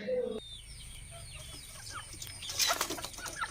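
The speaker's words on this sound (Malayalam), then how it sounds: "അപ്പോൾ ഫാൻസി കോഴികളും അതേപോലെ പ്രാവ്, പിന്നെ കുറച്ച് കോണൂർ ഐറ്റംസ് ഒക്കെ വരുന്നുണ്ട്." Fancy chickens cluck softly in short scattered calls, with some wing flapping and a faint background hum, moderately distant rather than close.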